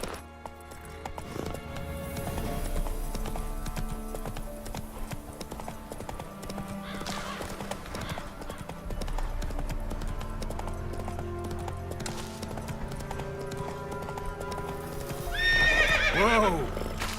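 Roach, the horse in The Witcher 3, clip-clopping along as a rider reins it in, hooves slowing to a halt before a loud, close whinny near the end, with game music underneath and brief spoken lines.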